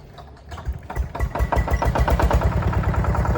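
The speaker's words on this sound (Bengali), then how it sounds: "যে স্টার্ট দিয়ে ফেলাইছে মেশিন" A construction-site machine engine starts up and settles into a steady, throbbing run, loud and close, with a rhythmic low pulse and no talk over it.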